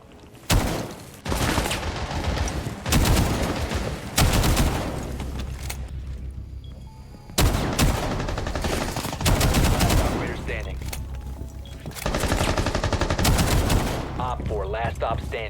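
Rainbow Six Siege gunfight: dense bursts of rapid automatic gunfire and overlapping shots, loud and close, in several sustained volleys broken by brief pauses, with faint voices beneath.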